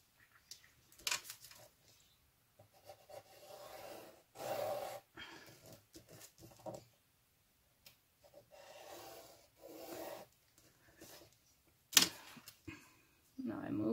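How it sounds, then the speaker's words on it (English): Paper for a junk journal being cut by hand, with intermittent scraping and rasping strokes in short bursts separated by quiet pauses, close up, plus some breathing and handling noise. "this is how I'm going to cut the paper"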